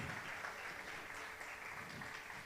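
Congregation at a church sermon applauding, a steady wash of many hands clapping that holds evenly throughout, fairly distant and diffuse with no voices over it.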